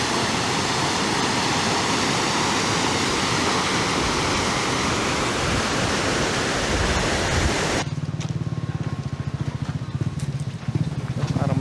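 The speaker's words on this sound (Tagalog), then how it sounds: "Ay, sobrang lakas ng agos." Loud, steady rushing water of the Dupinga River in Nueva Ecija roars throughout, like a powerful current, then drops to a quieter flowing wash with some handling noise near the end.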